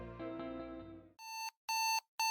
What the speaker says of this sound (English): My hand hits the button on the alarm clock before my eyes creak open